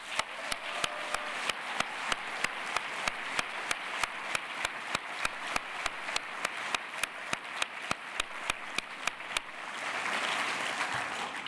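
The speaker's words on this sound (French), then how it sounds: "Je vous prie de les applaudir." At the opening of the Neuchâtel fantastic film festival (NIFFF), an audience applauds the volunteers with steady rhythmic clapping in unison, about three claps a second, then breaks into a loose wash of applause.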